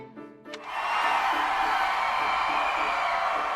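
In the video game Fire Emblem Three Hopes, a loud crowd erupts into sustained, roaring cheers that swell after a brief quieter moment and hold steady.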